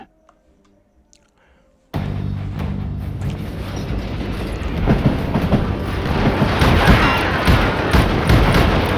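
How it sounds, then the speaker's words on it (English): Moving train in the video game Call of Juarez: Gunslinger, rumbling and rattling loudly after a quiet start and building in intensity with clattering wheels. "safer on the inside of the train."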